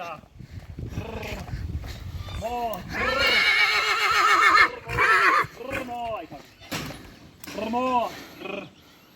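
A stallion neighs loudly with long, shaking whinnies, several calls in a row nearby in the Carpathian mountains, while people talk in between over the noise of a mountain stream.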